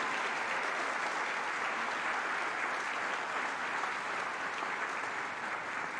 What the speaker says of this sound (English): One more round of applause for the incredible students here at Lakeland High School.